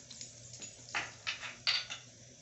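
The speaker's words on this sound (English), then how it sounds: "So let's stir these spices." Spices, the last being paprika, stirred in a pan, a few soft scraping and clinking strokes that come in short bursts, fairly quiet and close, with no talking.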